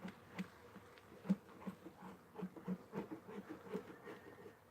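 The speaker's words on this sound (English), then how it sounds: "we have robber bees coming in here cleaning it up." Robber bees swarm around a dead-out beehive, making a faint, close buzzing hum with short rising and falling drones as individual bees pass near.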